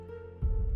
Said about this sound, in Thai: มีเพียงเสียงหัวใจของพวกเขาทั้งสาม ที่เต้นระรัวอยู่ในอก